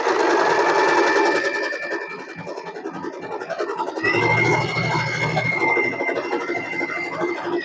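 Usha Allure DLX sewing machine running a normal straight stitch, a close rapid mechanical whirr and needle clatter in two bursts, faint and alone with no talk.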